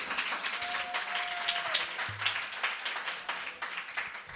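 Cheering and clapping rise from a cultural show audience, the applause dense and lively with uneven peaks, a crowd applauding on cue for a poetry performance, lasting over four seconds.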